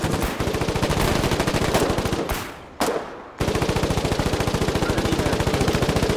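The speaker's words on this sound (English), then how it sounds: "There's a machine gun guy right there." Rapid, continuous machine gun fire from the Foxhole war video game. Loud and dense, it runs almost the whole time, breaking off for about a second midway before resuming at full intensity.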